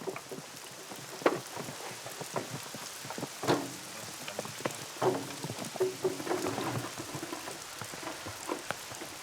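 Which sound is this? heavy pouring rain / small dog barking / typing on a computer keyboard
heavy pouring rain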